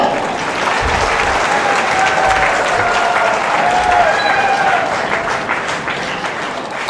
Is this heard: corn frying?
no